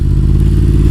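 A 1000cc Yamaha MT-10 motorcycle engine roars loud and close in one brief, steady burst of acceleration, with no speech over it.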